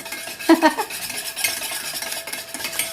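Yogurt being beaten by hand in a bowl for cucumber tambuli, a quick burst of stirring clinks and whisking near the start, then softer steady scraping and swishing close by.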